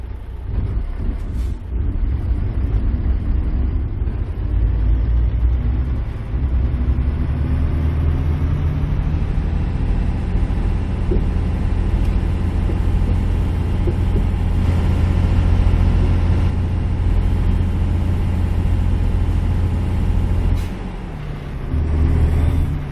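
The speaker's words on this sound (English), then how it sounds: "for y'all who just like to listen to the engine roar" Heavy truck engine in American Truck Simulator roaring steadily and loud for the whole stretch, a deep constant drone with a brief dip in the last seconds and no talking.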